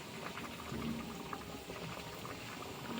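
Fish curry simmering in a pan, with the fish just added to the boiling gravy, gives a steady low bubbling and gurgling that stays even throughout, close and fairly quiet.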